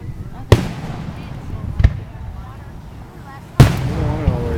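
Birthday cake fireworks at a backyard show go off in three sharp, loud bangs spaced a second or two apart, each followed by crackling and fizzing, with people talking between them.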